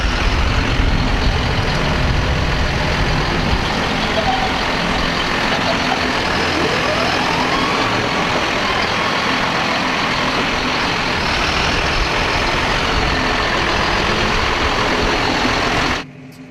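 A John Deere 6140R tractor pulls away, its engine a steady, loud drone with a faint rising tone partway through. The drone holds for about sixteen seconds and then cuts off abruptly.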